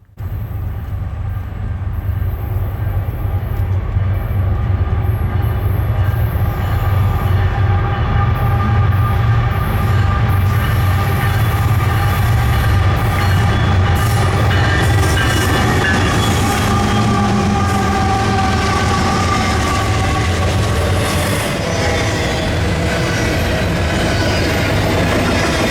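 A Norfolk Southern freight train passes on the Chicago Line with a deep, loud, steady rumble of cars and wheels that holds close and constant for the whole stretch, with no talk.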